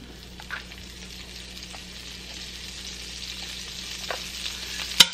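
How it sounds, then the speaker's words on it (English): Mushrooms sauté in vegan butter with a soft, steady sizzle and occasional light stirring taps, ending in a couple of sharper knocks. "I'm just gonna saute the mushrooms"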